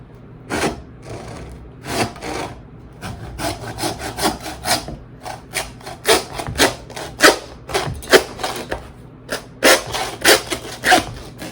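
Bone saw cutting through lamb ribs, giving a steady series of rasping back-and-forth strokes with short pauses, close and fairly loud, no talking.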